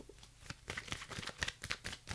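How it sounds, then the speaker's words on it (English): Tarot cards given a good shuffle during a weekend reading: a quick run of soft papery riffles and flicks, close and fairly quiet, with no talking. "So giving that a good shuffle now"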